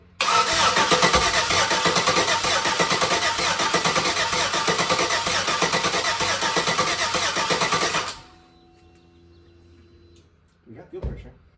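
Chevrolet Nova's LS 5.3 V8 cranks and fires up in a garage, running loud and steady for about eight seconds before cutting off abruptly, leaving quiet with a brief clunk near the end.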